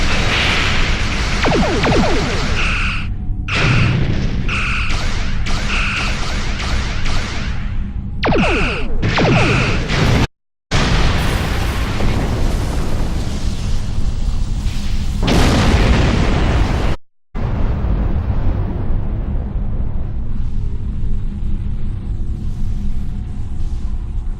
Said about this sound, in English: We're under attack by Klingon raiders.